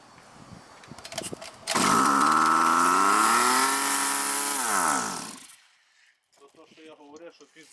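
A petrol brush cutter, running without its new carburettor fitted, starts with a few sputters and then roars loudly at high revs for about four seconds before its engine dies away. Talk follows afterward.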